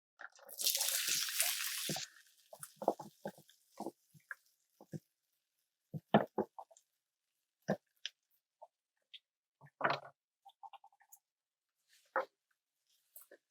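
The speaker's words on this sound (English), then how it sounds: "Now, we're going to add the rice." Cooked rice goes into a hot, lightly oiled pan for shrimp fried rice, giving a loud two-second hiss and rustle followed by scattered soft clicks and scrapes as it settles and is stirred.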